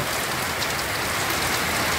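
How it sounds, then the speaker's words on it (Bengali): Heavy rain pours down in a dense, unbroken roar of drops striking surfaces, loud and steady throughout. "দেখো বৃষ্টিটা কেমন হচ্ছে, প্রচণ্ড পরিমাণে বৃষ্টি।"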